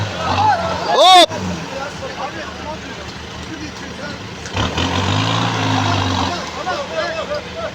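A Toyota Hilux off-road truck with portal axles approaches during an extreme off-road race, its engine a rough, steady roar with a sharp burst partway through. Crowd noise and people shouting run throughout.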